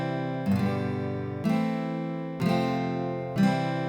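Four simple block chords in C following a 1-5-6-4 progression, each struck cleanly about a second apart and left to ring, even and moderately loud with no voices.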